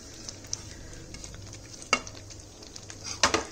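Spiced ragda bubbles gently in a pot while a spoon stirs it, with quiet scraping strokes that peak a few times over a soft simmering hiss.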